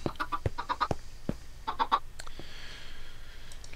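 Cartoonish chickens cluck in a farming video game, sounding as short bursts of clucks in two clusters over a quiet background.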